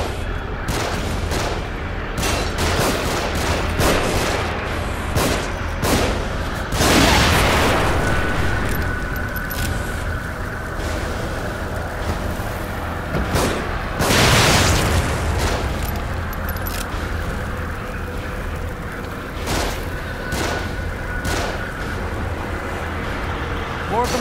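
Enemies fire down from above during a combat scene in the horror video game The Evil Within, with booming shots and crackling gunfire over a constant rumble of game noise, alongside game voices and music.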